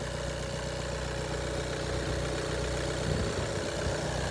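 A 2014 VW Golf 1.6 diesel engine idling steadily up close, a constant low rumble with a mechanical hum and slight uneven pulsing.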